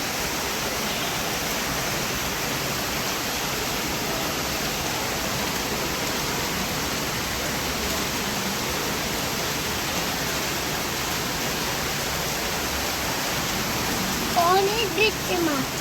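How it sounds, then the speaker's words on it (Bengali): Heavy rain pours down in a dense, unbroken hiss that stays even and close for the whole stretch, with a faint voice-like sound briefly near the end. "প্রচণ্ড বৃষ্টি দেখছো, বড় বৃষ্টি।"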